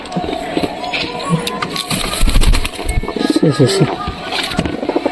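Lakka pigeons coo and flutter close by amid fighting, scuffling and wing flaps, with a few loud thumps and rustles between the calls.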